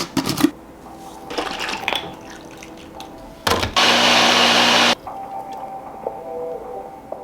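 A blender whirs loudly through a spinach and peanut butter smoothie in a short, steady burst, preceded by clinking kitchen handling sounds and quieter rattles.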